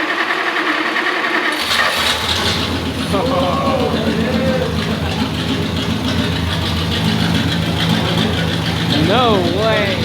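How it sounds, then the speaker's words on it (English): An old 1930s dirt race car engine cranks and fires up, then runs with a rough, uneven idle close by while people talk over it. "So they got a 1930s dirt race car started today."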